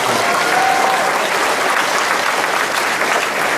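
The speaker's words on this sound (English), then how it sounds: "one more round of applause" A crowd applauds a group of freshman girls at a high school track and field awards night, a dense steady roar of clapping that holds loud and even throughout.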